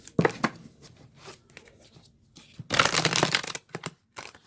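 Close, crisp riffle and slap sounds of a deck of cards being shuffled by hand, coming in uneven bursts with short pauses, loudest in a long run near the end.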